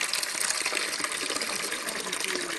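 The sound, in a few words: fluid draining from a Renault Mégane 2 engine bay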